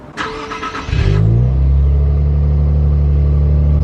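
A new Nissan Z with sport exhaust cold-starts: a short starter whir, then the engine catches and settles into a loud, deep, steady rumbling idle close by.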